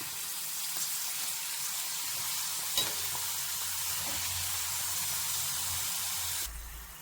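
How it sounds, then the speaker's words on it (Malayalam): Pieces of pappadam deep-frying in hot oil give a steady, close sizzle and bubbling hiss that runs unbroken, with a faint clink partway through and no one talking. "നമ്മൾ സാധാരണ പപ്പടം വറുക്കുന്ന പോലെ തന്നെ എണ്ണയിലേക്ക് ഇട്ട് കൊടുത്ത് നമുക്കിത് വറുത്തെടുക്കാം"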